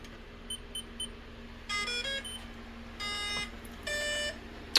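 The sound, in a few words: RC truck ESC startup beeps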